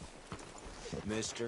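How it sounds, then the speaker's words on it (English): Horse hooves clip-clop at a walk in Red Dead Redemption 2, a steady, moderately close patter running beneath a voice that speaks briefly near the end. "Hitch your horse up here."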